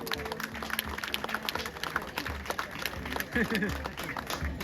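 Audience applause at a baptism celebration, scattered clapping from a gathered crowd with voices and background chatter mixed in.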